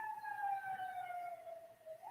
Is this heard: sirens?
yes